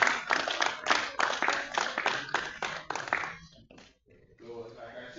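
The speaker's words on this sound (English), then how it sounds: "Can we give them a round of applause?" A small audience at an Igbo community meeting in Wales gives a short round of applause, a sparse, fairly close burst of clapping that thins out after about three seconds as talking resumes.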